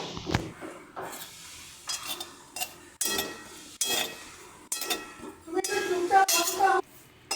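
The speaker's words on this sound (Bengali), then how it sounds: "কাঁচা লঙ্কাগুলো দিয়ে এটাকে একটু হালকা করে নাড়াচাড়া করে নেব।" Whole green chilies are stirred in a dry pan while being lightly roasted for a jackfruit-seed mash, with intermittent scrapes and metallic clinks and a soft sizzle between strokes.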